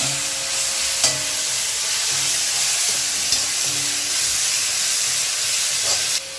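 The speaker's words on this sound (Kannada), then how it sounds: "ಇವಾಗ ಟೊಮೊಟೊ ಹಾಕ್ಕೊಳನ್ರಿ, ಚೆನ್ನಾಗಿ ಬೇಯಿಸಿ ಟೊಮೊಟೊ." Tomatoes sizzle and hiss loudly in a pan for duck gravy while a spoon stirs them, scraping knocks marking the steady frying at close range, no talking.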